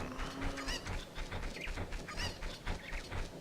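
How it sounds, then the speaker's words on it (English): Chickens cluck repeatedly in Legend of Zelda: Ocarina of Time, short scratchy calls scattered in a steady rhythm over a low game background, moderately loud with no talking. "God, those chickens are so annoying."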